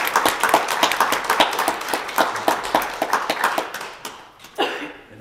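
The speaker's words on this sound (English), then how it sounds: "how about a nice round of applause?" Congregation applause at a church service, a spread of individual hand claps close by in an uneven rhythm that thins out and fades near the end, followed by a brief shuffling thump.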